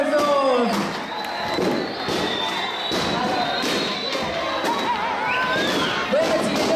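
A school audience breaks into dense, sustained applause and cheering after a joke, with thumping hits and shouts mixed in, loud and close throughout.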